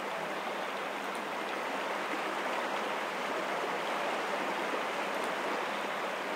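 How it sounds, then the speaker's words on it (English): A river flows in a Baldur's Gate video game as a steady, continuous broadband rush of water, even and unbroken throughout, with no clear crickets and no voices. "I do like the sound of the river and the crickets."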